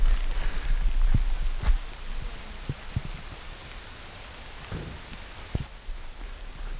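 Steady rain falls outdoors in Shiga prefecture, Japan, keeping up a constant close hiss with scattered heavier drops knocking on nearby surfaces.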